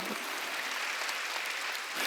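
A church congregation claps during a Wednesday worship service, a steady wash of hands clapping throughout the space, even and sustained with no voices over it.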